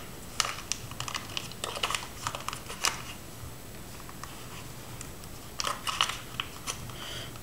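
Gift wrapping paper is folded and creased by hand around a present, giving close, scattered crinkles and crisp taps in short bursts separated by quiet pauses.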